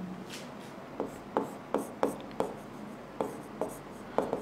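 Writing on a board during a math lesson makes short, regular scratchy strokes, about a dozen taps and scrapes in an uneven rhythm, close and fairly quiet.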